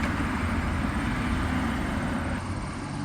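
Steady broadband rumble of traffic on a main road, a continuous roar of passing vehicles with low-end drone, loud and unbroken throughout with no voices.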